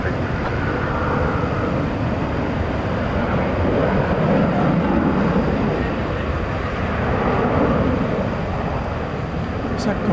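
An American Airlines Boeing 777-300 jet rumbles at DFW Airport at night, a broad, steady roar that swells a little mid-way and holds throughout at a moderate distance.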